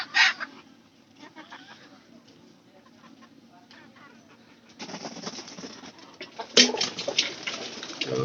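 Pigeons cooing near a village home with chickens about, soft low calls repeating at first, then busier bird sounds and fluttering noises growing louder toward the end.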